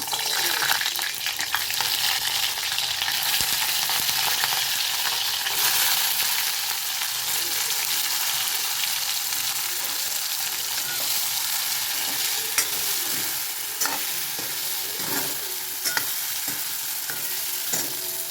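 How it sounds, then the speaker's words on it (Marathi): Loud, steady sizzling of stuffed bitter gourds frying in hot oil in a wok, with occasional stirring scrapes throughout and no talking. "हे भरलेले कारले जे आहेत ते आपण याच्यामध्ये टाकून थोडेसे फ्राय करून घ्यायचे आहेत"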